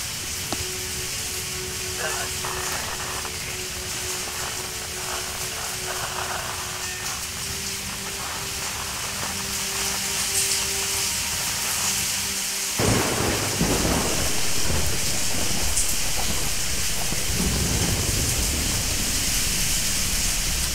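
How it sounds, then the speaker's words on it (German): Rain and a thunderstorm in the Tomb Raider video game, a steady roar of heavy rain with rumbling thunder. It grows denser and louder partway through, and game sounds and a faint voice come over it. "Warten, bis der Sturm vorbei ist."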